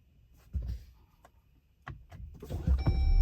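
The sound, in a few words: Jeep Wrangler Rubicon engine being turned on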